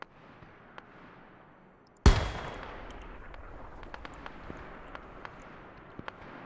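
Rifle fire in the multiplayer game TSB during the Raate Road battle: one sharp, loud crack that rings and decays, followed by scattered, fainter distant shots popping irregularly.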